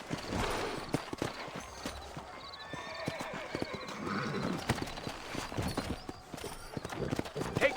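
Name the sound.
horse hooves and whinny in Red Dead Redemption video game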